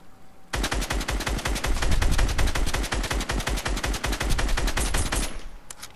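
Sustained automatic assault rifle fire in Fortnite Battle Royale, a rapid unbroken stream of loud close shots lasting about five seconds before cutting off.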